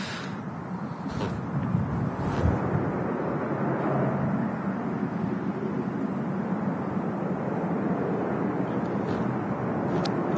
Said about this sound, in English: Winds gusting all around the airfield,